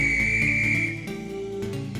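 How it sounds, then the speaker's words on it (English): Railway guard blows a shrill whistle in a steady, sustained blast lasting about a second, followed by a shift in pitch as background music carries on underneath. "The guard blew his whistle,"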